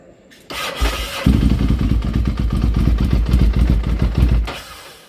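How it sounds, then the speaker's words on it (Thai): A Ducati Monster 796 motorcycle with an immobilizer fault cranks with a short whir, then catches and settles into a loud, close, lumpy idle with a steady rapid pulse, fading slightly at the end. "ก็อันนี้ถ้าเวลาสตาร์ทแล้วเครื่องจะทำงานนะครับ"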